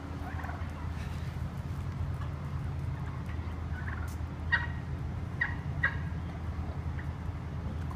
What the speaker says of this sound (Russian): целая стая индюков.